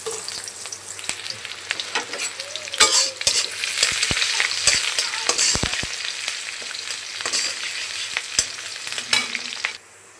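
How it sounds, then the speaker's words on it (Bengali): Onions and chillies fry in hot oil in a pot, giving a constant sizzle with sharp clicks and scrapes from stirring, at moderate level and with no talking. "এখন আমি তেল দিয়ে দিচ্ছি তারপর দেখি পেঁয়াজ মরিচ"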